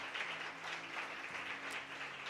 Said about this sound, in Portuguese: Dê uma grande salva de palmas ao Senhor.